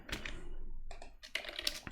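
Computer keyboard typing while entering a command to publish a Python package, a close, quick flurry of clicking keystrokes in uneven bursts with a short pause midway, no talking.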